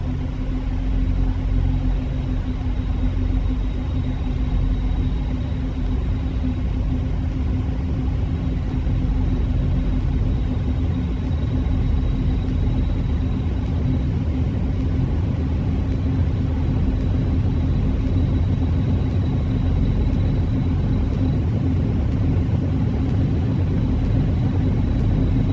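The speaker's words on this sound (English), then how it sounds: "Let's run the engines up." C-130H turboprop engines run up in X-Plane 11, a steady, loud, unbroken drone and rumble holding an even pitch throughout, with no voices over it.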